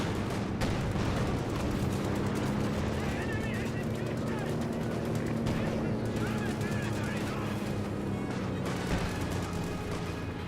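Dense rifle and light machine gun fire from a Company of Heroes 2 battle, Grenadiers against conscripts, rattling in steady bursts throughout under a continuous game soundscape, with a caster talking over it.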